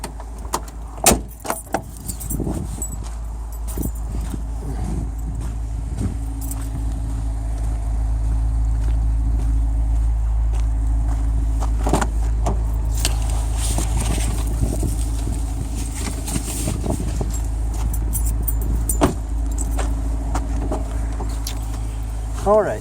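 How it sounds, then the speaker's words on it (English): A car is moved out from a heavy-haul truck setup: keys jangle and a few sharp knocks sound at the start, then a steady low engine idle drones on, with brief rattles near the end. "I'm gonna take my car out of there so I can back"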